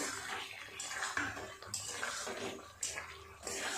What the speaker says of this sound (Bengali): আরও বেশ কিছুটা জল দিয়ে দেব